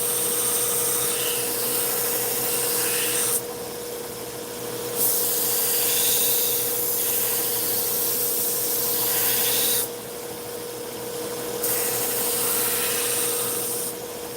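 A knife grinding machine with dust extraction runs with a loud continuous whoosh, broken by repeated passes of the blade against the belt that shift the tone in cycles over several seconds, with no talking.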